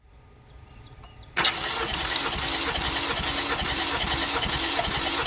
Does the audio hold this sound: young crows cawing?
no